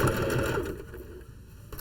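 A sewing machine stitches along a seam on an upcycled garment, stopping at the thumb, with a steady close mechanical whir that runs for about the first half and then fades to a quieter hum.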